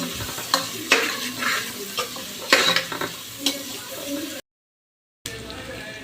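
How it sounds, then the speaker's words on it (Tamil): Curry leaves fry with onions in hot oil for Chettinad chicken while a spoon stirs the pan, producing loud crackling sizzle and brisk scraping strokes before a brief cut-out. "இந்த ஸ்டேஜில் இந்த கருவேப்பிலை போட்டு நம்ம கிளறிக்கலாம்"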